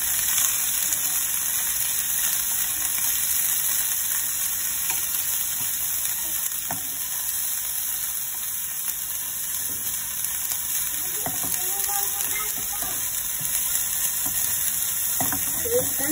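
Salted turnip, cai po, stir-fries in a pan with a constant dense sizzle and light intermittent scrapes as it is tossed, close and unbroken for the whole stretch, with a steady high whine above it and no talking.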